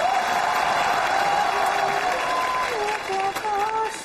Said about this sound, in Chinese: 来，掌声欢迎。